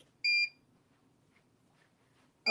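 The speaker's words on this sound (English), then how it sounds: "It's gonna beep" A machine gives one short, clear electronic beep, then only faint room noise follows during Siser Romeo glitter HTV sublimation work, with the start of a second beep at the very end.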